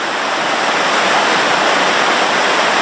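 A waterfall in the Grand Canyon of Crimea, pouring through a rock gap in beech forest, gives a loud, steady, close rush of water that fills the whole stretch without pause, and no voices are heard.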